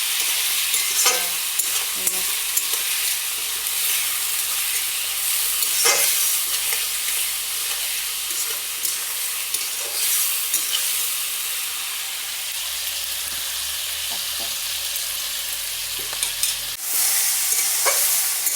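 Salted duck meat fries in a pan with a continuous loud hiss and sizzle, broken by occasional scrapes and clatters of stirring.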